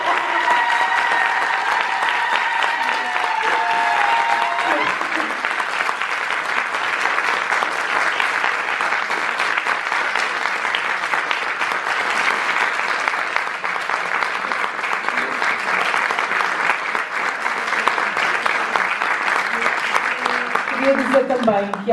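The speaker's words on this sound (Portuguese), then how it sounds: "Uma salva de palmas à Paula" An audience at a Lisbon dance festival applauds Paula, with sustained, even clapping from many hands that holds at a steady level throughout.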